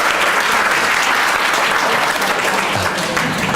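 Steady, dense applause from a crowd, clapping continuously at an even level throughout.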